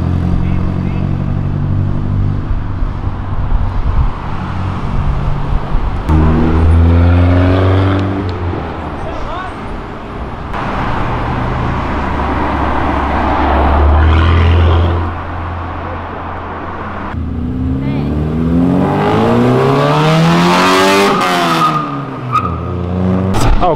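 A Mini car accelerates past at a street gathering, engine revving up and fading in several loud passes with tire noise, while people talk and call out nearby throughout.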